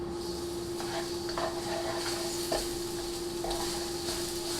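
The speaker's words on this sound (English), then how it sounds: "garlic hitting hot oil or butter is one of" Garlic sizzling in hot oil in a pan, a steady close frying hiss with a few stirring clinks and scrapes, under a constant background hum and with no talking.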